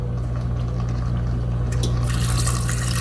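Broth being poured into a soup pot of chickpea fall soup with cumin, turmeric and salt makes a steady liquid splash and fill over a constant low hum, swelling a little louder toward the end.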